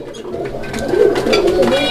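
Pigeons coo loudly and close by, a soft throaty rolling call repeated over a couple of seconds.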